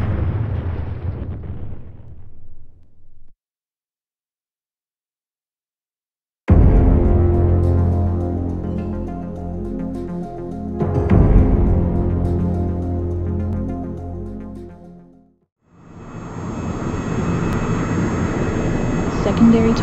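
Jet fighter roar and heavy weapon blasts in the Joint Strike Fighter combat flight game: loud rumbling bursts, a sudden cut to silence, then a renewed surge of engine noise and explosions.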